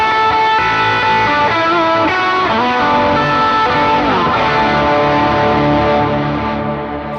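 Electric guitar played through a Timmons Drive overdrive pedal for a mid-heavy rock tone, loud sustained distorted chords and bending notes ringing out continuously with no talk.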